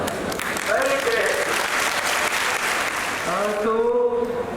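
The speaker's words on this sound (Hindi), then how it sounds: "Great, ताली बजाओ" A lecture-hall audience gives a sustained round of clapping at a motivational talk session, steady and fairly loud across the whole stretch, with a voice talking over it near the start and again at the end.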